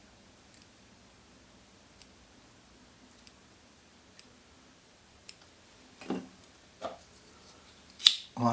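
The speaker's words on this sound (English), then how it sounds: "We can take our scissors" Small scissors snip while trimming materials on a fly being tied, giving a series of sparse, crisp clicks that grow sharper and louder toward the end, close by in a quiet room.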